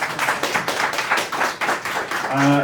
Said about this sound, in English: All right, big round of applause for Jake.